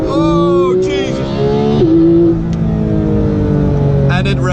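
A 2017 Porsche 911 GT3 engine revs hard and loud, its rising harmonic wail climbing toward a high redline, dropping, then surging again, close and dominant throughout.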